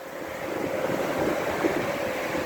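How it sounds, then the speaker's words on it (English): Strong outdoor wind roars steadily near a dog park on a stormy day, a loud, continuous rumbling gust with microphone buffeting and no talking. "it's getting windy"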